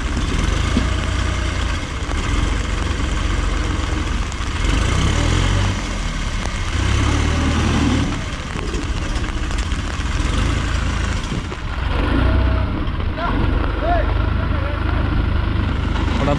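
Two tractors, a Mahindra 265 and a New Holland, run with a steady low diesel rumble, stuck near a water tank and a pit, with voices talking over the engines throughout.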